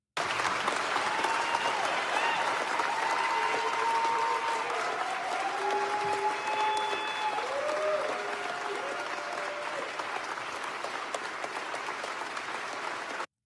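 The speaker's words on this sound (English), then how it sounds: "They're literally cheering because they get to tax you." A large crowd claps and cheers after a bill passes, dense sustained applause with whoops and shouts running continuously throughout at an even loudness.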